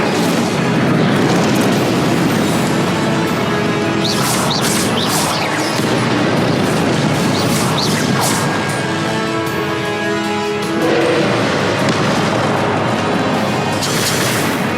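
Incendio fire spell cast in Hogwarts Legacy on PS4, a loud sustained roaring whoosh of flames with dense crackling and booming bursts, filling the whole stretch without talk.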